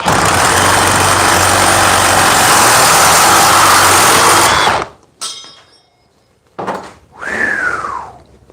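A FLEX 24 volt reciprocating saw cuts hard for about five seconds, a loud, dense, steady buzzing roar that cuts off abruptly and is followed by a few brief, fainter mechanical noises.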